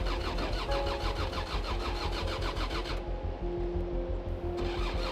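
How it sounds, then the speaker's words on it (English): A diesel vehicle's engine cranks with a rapid starter rhythm, then catches and settles into a loud steady idle, heard up close on a cold morning on an Arctic journey with aired-down tires. "the engine roared to life on the second attempt"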